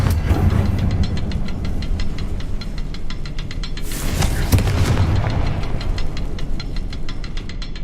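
A Confringo blasting spell in Hogwarts Legacy erupts as one loud, broadband boom midway through, set over steady game ambience with fast rhythmic ticking.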